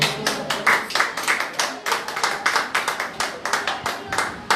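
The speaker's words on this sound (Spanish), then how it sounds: "Dale otro aplauso, Señor." Applause from a church congregation, steady hand clapping of a moderate crowd with distinct sharp claps in a quick uneven rhythm, fairly close and sustained throughout.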